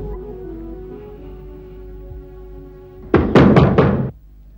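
Three or four firm knocks land on a wooden door in quick succession after a quiet indoor pause, close and fairly loud, with no talk over them.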